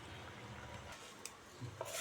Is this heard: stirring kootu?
yes